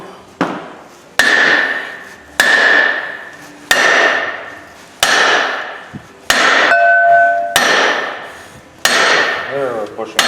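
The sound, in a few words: hammering a bushing out during line bore assembly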